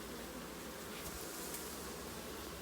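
Honey bees buzzing steadily during removal of an elevated hive only a few months old, a dense continuous hum heard close with no talk.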